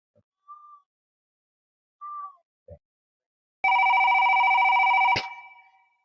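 A telephone rings once in a loud, close burst lasting about a second and a half, then cuts off and fades, after a few faint short sounds in near silence.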